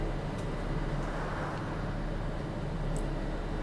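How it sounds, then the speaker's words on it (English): A bus in the OMSI 2 simulator on the Gainsborough route rumbles with a steady, low engine drone and road noise, continuous and fairly close, with no talk. "Oh, listen to how good that engine sounds."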